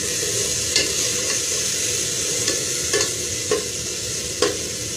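Ginger paste frying over maximum heat while being stirred, a steady close sizzle with occasional scraping clicks from the spoon, no talking.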